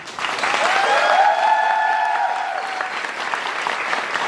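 Audience applause and cheering at the final curtain of the musical Swag Age, a dense sustained clatter of many hands with a rising whoop from the crowd, filling the whole stretch.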